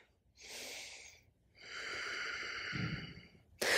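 Slow, close breathing while holding a yoga warrior pose: a short airy inhale, a pause, then a longer, steady exhale of soft rushing breath.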